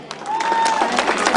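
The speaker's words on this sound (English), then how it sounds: "Big round of applause for all of you" Audience applause at a pageant event, a steady wash of clapping from a crowd that fills the whole moment, with a voice faintly carrying over it.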